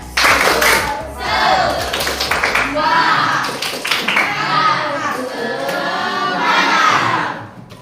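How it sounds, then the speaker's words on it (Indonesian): A standing group of participants at a teacher coaching session claps a patterned spirit clap together, loud and close, with bursts of sharp hand strikes and children's voices and chatter mixed throughout. "Tepuk semangat."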